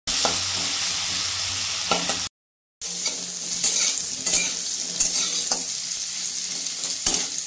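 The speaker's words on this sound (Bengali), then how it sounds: "আলুটা ভাজা হয়ে গেছে" Potatoes fry in a pan in oil with a steady, close sizzle and the clatter of stirring, for a homemade paneer-style potato dish; a brief silent gap breaks the frying before it resumes at the same level.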